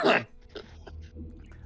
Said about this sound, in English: I was mid-cough, so that made it more intense.